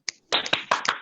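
A quick burst of several sharp, close hand claps from an audience at a sales agency training session, uneven in rhythm after one lone lead-in clap, lasting about a second.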